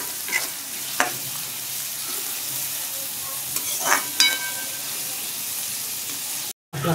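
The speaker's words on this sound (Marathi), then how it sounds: "कांदा लाल होत त्याला आपण तेलामध्ये फ्राय करून घेणार आहे" Onion frying in oil in a home kitchen pan, a soft steady sizzle with a few brief stirring clinks and scrapes, close up, with a short dropout near the end.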